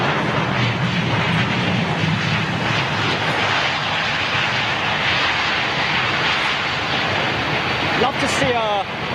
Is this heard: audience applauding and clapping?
no